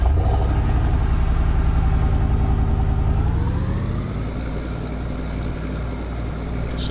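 Gasoline truck engine in Farming Simulator 19 runs loud and steady at close range, a dense rumble that eases off and settles into a smoother, slightly lower drone with a thin high whine rising in.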